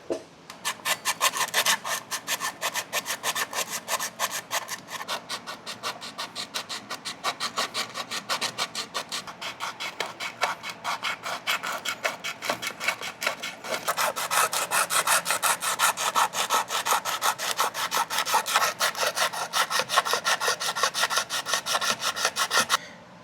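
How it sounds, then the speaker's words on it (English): Hand deburring of a freshly cut tubing edge during a John Deere 3038e repair, giving steady rapid scraping and rasping strokes that run continuously and close up, growing slightly louder partway through, with no talking. "make sure that you clean off, like kind of deburr that"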